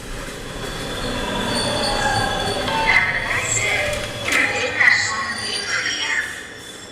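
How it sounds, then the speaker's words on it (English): A fast train in the video game BATDR rolls along with a steady rumble, rhythmic wheel clatter and occasional high squeals, loud and continuous while someone talks over it. "Is this a speed train?"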